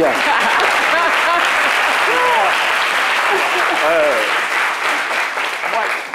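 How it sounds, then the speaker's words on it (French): Studio audience applauding on a French-language TV talk show, a steady, dense wash of clapping lasting several seconds while voices cheer and talk over it, thinning slightly toward the end. "Applaudissez pour la tête."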